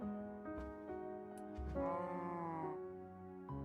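Sheep in a farm video game bleat in a string of close, clear, wavering cries, one running into the next, with no talk over them.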